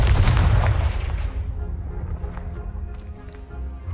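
A Confringo fire spell blasting piled debris in Hogwarts Legacy, a loud booming explosion right at the start that rumbles and decays over several seconds, with scattered rubble clatter afterward.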